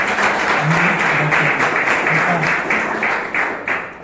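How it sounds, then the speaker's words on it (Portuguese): Congregation applauding during a Sunday church service, a dense sustained wash of clapping with faint pulsing and a low hum of voices underneath, loud and close. "Pode aplaudir o nosso Deus"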